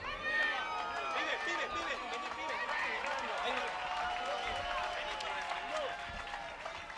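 Crowd applause and cheering ring out at a GLORY Rivals kickboxing event for German fighter Denis Wosik, a steady dense wash of clapping with an announcer's voice talking over it throughout.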